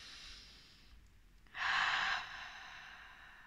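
Deep breaths during a guided meditation: a soft, airy exhale, then a louder, sharper breath in the middle, close and alone with no talking.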